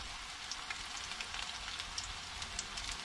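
Dungeness crab cakes fry in a pan with a steady, close crackling sizzle that holds evenly throughout, sprinkled with small popping spits of oil, no voices.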